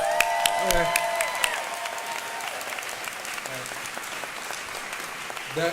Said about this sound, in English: Let's clap it up for them.